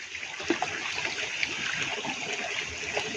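Hot spring water at the Kidangin Hot Spring resort bubbling and churning up from underground, a steady close rushing gurgle with small splashes throughout.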